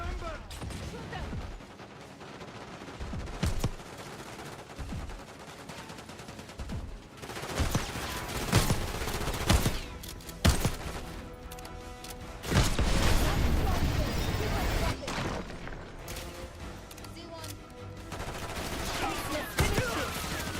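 Gunfire in the Call of Duty Black Ops 6 campaign: sustained automatic bursts and single shots, with loud clusters of rapid fire and impacts throughout, layered over game effects and occasional talk.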